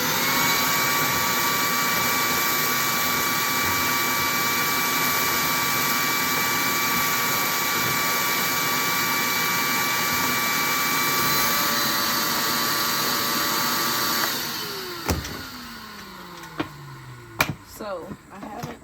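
A shop vacuum runs outdoors in a garden, giving a loud steady droning whine that holds for about fourteen seconds, then cuts off and winds down, followed by a few scattered knocks and clatters.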